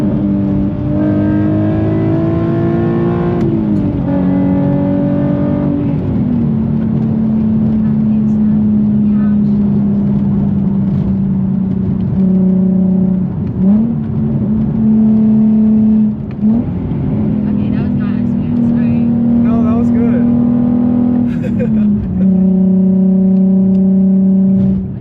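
A Nissan Z sports car's engine drones loudly from inside the cabin, its pitch climbing and settling in several rev-matched downshift blips, with people talking over it.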